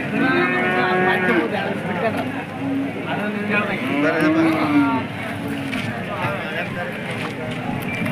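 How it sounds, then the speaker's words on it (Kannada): Cattle moo repeatedly, some long and sliding, amid the bustle of a livestock market at Hosadurga where cows and buffalo are sold, with people talking throughout over the animals. "ದನಗಳ ಸಂತೆ ಹಸುಗಳ ಸಂತೆ ಎಮ್ಮೆಗಳ ಸಂತೆ ಎಲ್ಲ ಮೂರು ಸಂತೆನೂ ಬನ್ನಿ"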